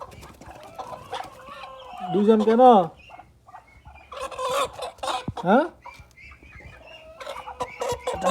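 Hens in a poultry shed at night give loud, clear clucks and drawn-out cackling calls in a few separate bursts. Between the calls a person speaks briefly.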